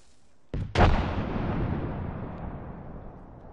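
A frag grenade in a video game bursts with a sharp crack and a heavy boom, then a long rumbling decay that fades away over a few seconds.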